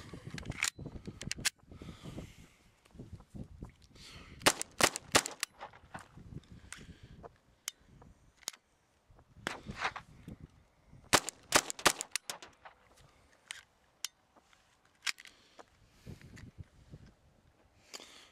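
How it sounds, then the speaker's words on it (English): Sharp gunshots from a gun being test-fired after earlier jamming, irregular single reports and short bursts spread across the span, loud and close with quiet gaps between, no talking. "The gun seems to be working pretty good now, so I'm going to try it again and see what happens."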